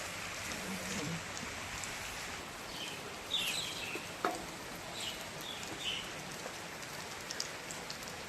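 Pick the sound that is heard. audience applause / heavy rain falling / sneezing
heavy rain falling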